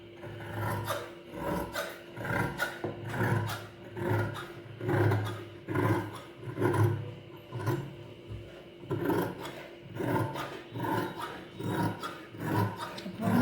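Scissors cutting through chudidar lining fabric, a steady series of close rasping snips and rubs in a regular rhythm, moderately loud and alone without talk.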